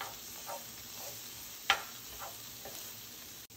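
Green onion sautéing in a pan for a crawfish bisque, a soft, steady sizzle with faint stirring scrapes and one brief sharp clink partway through.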